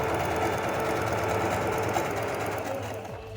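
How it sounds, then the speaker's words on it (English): A sewing machine stitching a curve in Bharatanatyam dance dress fabric runs in a steady, rapid mechanical whir, close and loud, easing slightly near the end, with a voice faintly underneath. "I'll be stitching along that curve."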